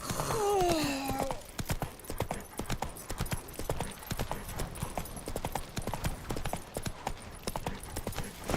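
Horse hooves trot with a steady clip-clop rhythm in The Witcher 3: Wild Hunt, continuing throughout, with a brief whinny near the start and faint game background.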